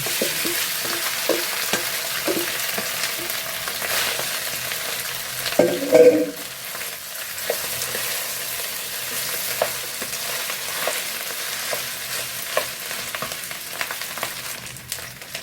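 Rice stir-fries with browned garlic in a pan, giving a constant sizzle broken by stirring scrapes, with a brief louder clatter as the rice goes in.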